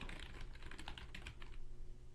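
Fast bursts of keystrokes on a computer keyboard, close and clear against a quiet room, then the clicking stops and only faint background hum remains.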